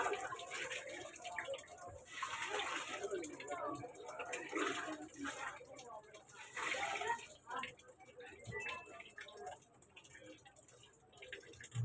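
Water pouring into a washing machine during the rinse of a 4.5-kilo load of dark laundry, a faint continuous splashing gush with small knocks, heard from up close in a room.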